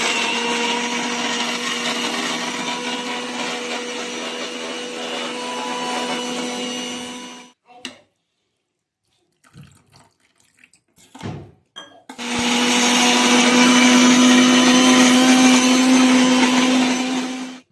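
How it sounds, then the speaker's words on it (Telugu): A mixer grinder grinds roasted peanuts for a chutney, a loud, steady whirring motor in two long bursts separated by a few seconds of near silence with faint handling clatter. "అవైతే నార్మల్ టెంపరేచర్కి వచ్చి ఇంకా మిక్సీకి పెట్టేసుకోవడమే."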